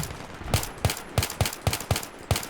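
Semi-automatic gunfire in Battlefield 3, seven sharp evenly spaced shots about a third of a second apart, fairly close and alone without talk.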